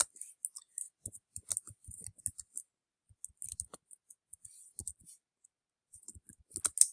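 Sparse, sharp mouse clicks on a computer while working in a Google Sites text box, short dry taps scattered irregularly across a quiet room, some in quick pairs, near and fairly soft.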